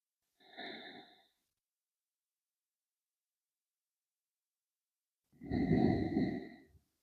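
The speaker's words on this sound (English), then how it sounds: "And 3 to 5 deep breaths here." Deep breathing during a gentle Pilates session: two slow breaths, a shorter soft one early, then after a long silence a fuller, louder, close breath with a rushing sigh-like quality.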